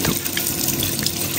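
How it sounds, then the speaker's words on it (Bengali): Tap water runs steadily into a sink while cut hilsa fish is washed, a continuous close splashing stream. "তুমি বেশি জল দিও না, অল্প জলে তাড়াতাড়ি ধুয়ে নিয়ে নাও"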